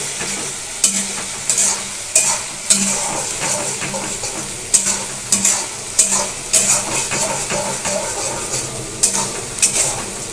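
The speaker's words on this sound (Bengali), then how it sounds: "যাতে ভালোভাবে নাড়াতে হবে যতক্ষণ গায়ে থেকে তেল না বেরোচ্ছে" Chicken kosha with ginger and garlic fried and stirred in a pan: a constant loud sizzle broken by repeated scraping and clanking of the spatula against the pan at an uneven pace, close up, with no talking.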